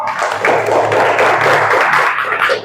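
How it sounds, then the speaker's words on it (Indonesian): A classroom of fourth-grade students claps for all the presentation groups, a short burst of close, uneven hand claps from a small group. "Tepuk tangan untuk semua kelompok."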